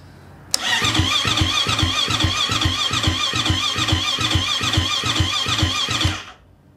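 A motorcycle fitted with an FMF exhaust, its dB killer removed, fires up with a sharp start and then settles into a loud, steady, throbbing idle close to the microphone for about five seconds before cutting off.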